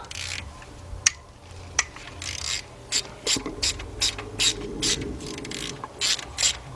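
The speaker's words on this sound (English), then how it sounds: "we're gonna get us a T40 with a 4-inch extension, 3/8 drive. We're gonna go in there and loosen that up" A ratchet on a 3/8-drive extension loosens a T40 Torx bolt during a partial engine rebuild on a 2003 Jeep Liberty Sport 3.7, giving close, loud bursts of clicking with a few sharp knocks in between.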